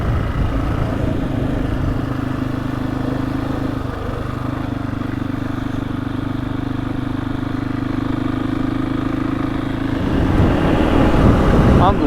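An old adventure motorcycle cruising along, its engine a steady, close droning hum that holds even throughout and swells slightly louder near the end.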